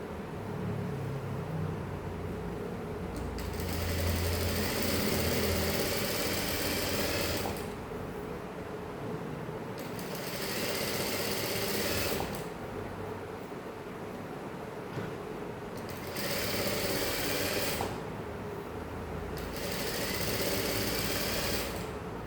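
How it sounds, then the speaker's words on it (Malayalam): A sewing machine stitches and locks both sides of a saree, whirring in steady runs of a few seconds each that are broken by short pauses, fairly close and with no voices. "ഇതിങ്ങനെ തന്നെ ഒരു തയ്യലും കൂടി ഇട്ടിട്ട് 2 സൈഡും ലോക്ക് ചെയ്ത് കൊടുക്കാം"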